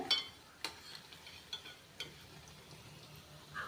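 Cauliflower fry pieces frying in oil, a soft steady sizzle broken by several sharp clinks and pops at irregular intervals, close and fairly quiet.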